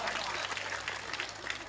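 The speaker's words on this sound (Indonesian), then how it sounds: "Tepuk tangan dulu." Indoor audience at an Islamic religious gathering breaks into loud, dense applause that fills the whole short stretch with steady, close clapping.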